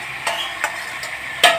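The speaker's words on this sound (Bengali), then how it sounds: "তাই আমি রান্না ম্যারিনেট করা চিকেনটা দিয়ে দিলাম" Marinated chicken cooking in a hot pan, with a soft, steady sizzle broken by a few short scraping stirs at irregular intervals, close by, with no talking.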